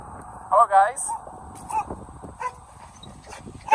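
Adult dogs in an outdoor kennel area bark and yip in a few short bursts, close by, with a person talking intermittently between them.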